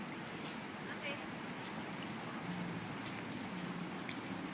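Steady rain falls outdoors with an even, moderate hiss of drops pattering on surfaces, while faint voices may be present in the background.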